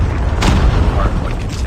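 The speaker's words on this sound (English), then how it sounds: "Friendly Predator missile inbound." A Predator missile blast in Call of Duty Mobile, one loud booming explosion near the middle over ongoing gameplay noise and battle sounds.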